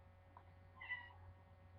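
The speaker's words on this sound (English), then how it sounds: "Hello, Kitty. I know you're here" A single faint cat meow rises briefly over a steady low hum, quiet and somewhat distant.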